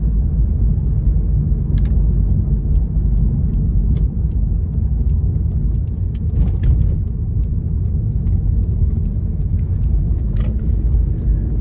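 A 2006 Cadillac XLR roadster with its Northstar V8 on a drive, heard from inside as a loud, steady low rumble of engine and road noise with faint scattered ticks and clicks and no talk.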